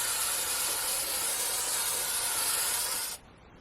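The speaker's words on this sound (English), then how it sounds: "I'm going to give it a spray" Aerosol fixative sprayed onto a pastel painting of a sunflower field: a steady, bright, close hiss lasting about three seconds, then cutting off abruptly into quiet.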